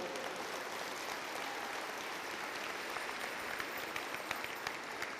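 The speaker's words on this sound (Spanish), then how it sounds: "Dale un aplauso al Señor," Sustained applause from a church congregation, a dense steady wash of many hands clapping at even loudness throughout, with no voices over it.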